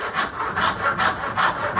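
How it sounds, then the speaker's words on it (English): A hand saw cuts through wooden picture frame moulding in quick back-and-forth strokes, about seven rhythmic rasping passes, close and clear with no talking. "Cut this end off."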